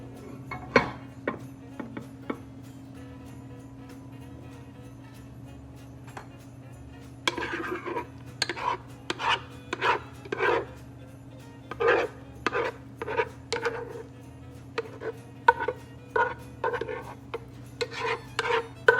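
A side dish mixture being mashed and mixed in a bowl, with a quiet first stretch of sparse scrapes, then a run of irregular rasping, scraping strokes from a utensil, close and dry, with no talk.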